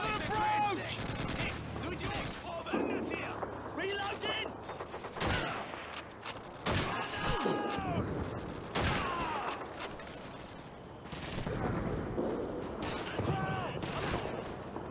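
Bursts of gunfire in Call of Duty 2, a World War II shooter, crackle through a hectic firefight with repeated volleys and sharp shots, loud and near, while voices shout over the battle.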